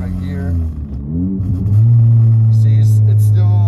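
A Volkswagen Mk7 GTI with a stage 2 clutch blips its engine during a heel-toe rev-match downshift, a quick rising rev after some rumble and talk, then a steady low drone held under cabin noise.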